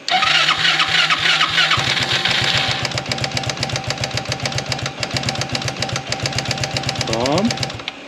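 Buggy engine cranks with rhythmic starter pulses, catches and settles into a loud, rapid, uneven idle that blips briefly near the end, with people talking over it.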